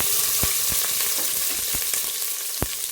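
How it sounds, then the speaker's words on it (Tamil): Chopped onion hits a hot pan for sambar, giving a dense continuous sizzle close by with a few sharp clicks and taps of a spoon scattered through it. "சின்னதாக ஒரு வெங்காயம் கட் பண்ணி வச்சுருக்கேன். அதை சேர்த்துக்கலாம்."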